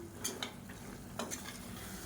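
Soaked black-eyed peas stirred and sautéed in a tomato masala, a steady soft frying sizzle with a few brief spoon scrapes and clinks against the pan.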